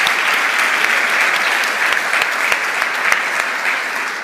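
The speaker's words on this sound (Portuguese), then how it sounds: "Uma salva de palmas para vocês que não são fiadores" Steady round of applause from a congregation, many hands clapping in a dense, even wash with a few sharper individual claps standing out, no talk over it.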